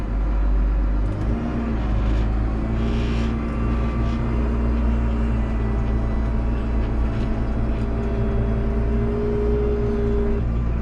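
A JCB 4220 Fastrac tractor pulls forward across a yard, its loud engine droning steadily close by and rising slightly in pitch as it accelerates, with no talk over it.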